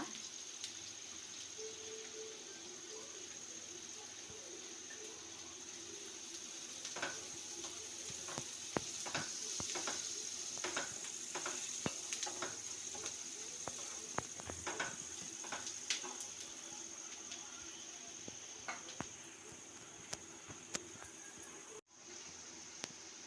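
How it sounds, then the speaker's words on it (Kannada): Onions frying in a pan for capsicum aloo bonda, a quiet, steady sizzle with faint crackles and occasional stirring taps, no talking. "ನೋಡಿ ಈರುಳ್ಳಿ ಫ್ರೈ ಆಗ್ತಾ ಇದೆ"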